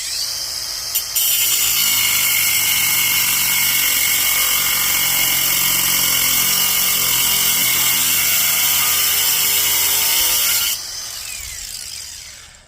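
A loud, steady high-pitched grinding whine of a power cutting tool cutting a van frame, running continuously for about ten seconds, then winding down and stopping.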